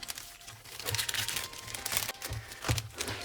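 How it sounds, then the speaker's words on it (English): A plastic bag holding parts of a Fujimi 1/24 Ford GT40 MK I 1968 model kit is handled close by, producing irregular bursts of crinkling and rustling with no speech. "Let's put back on the plastic"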